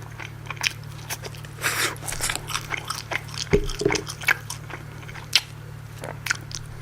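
Someone bites into and chews a Korean-style chicken burger with cheese, close crunchy bites followed by soft, intermittent chewing and squishy mouth sounds.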